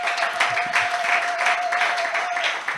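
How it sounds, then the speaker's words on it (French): Church congregation applauding and cheering to acclaim the Lord during a worship service, a dense, steady wash of clapping with a sustained tone running through it. "Est-ce qu'on peut d'abord acclamer le Seigneur?"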